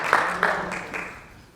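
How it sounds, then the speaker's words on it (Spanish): A congregation in a church gives a brief burst of applause that rings through the room, with a couple of louder swells before it fades away. "dale un aplauso al Señor"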